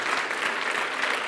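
A church congregation breaks into a dense, loud burst of hand clapping in praise, a steady wash of many hands with no single claps standing out.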